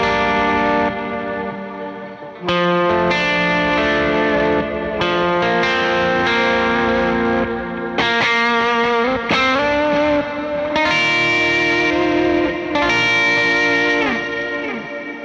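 Distorted electric guitar runs through a Meris Mercury X reverb pedal, sustained chords ringing out with shimmering, ambient reverb tails that cut off fairly quickly between strums.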